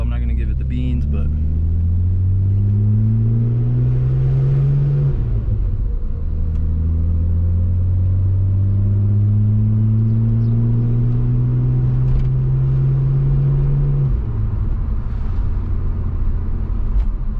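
An Audi S4 engine pulls through gears on a short drive around the block, rising tones climbing in long sweeps, shifting and climbing again, loud and close from inside the car.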